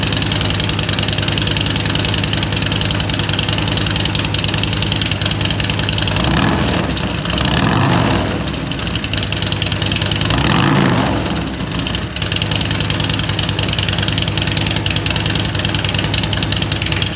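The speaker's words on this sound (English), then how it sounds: "I'm going to run the bike so you guys can hear what the bike actually sounds like, and let you guys hear some revs, let you hear it at idle." A motorcycle fitted with a Fuel Moto RTX Riot 2-into-1 shorty exhaust and a Stage 4 build idles, a loud, steady, lumpy rumble with a couple of slight swells in the middle.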